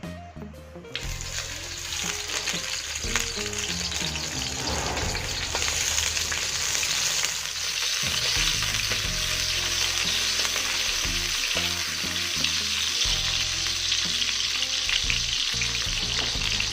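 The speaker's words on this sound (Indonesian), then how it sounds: "Langsung saja kita masukkan bawang putihnya dan bawang merahnya yang sudah kita potong-potong untuk kita rajang" Chopped garlic and shallots drop into hot oil and burst into a loud, dense, continuous frying hiss that holds steady throughout, with occasional scraping stirs and no talking.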